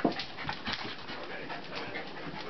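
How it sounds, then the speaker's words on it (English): Labrador dogs panting close by, a steady rapid rhythm of breathy huffs running continuously with little pause. "Aren't they the cutest labs you've ever seen?"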